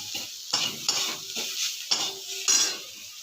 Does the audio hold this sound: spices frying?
yes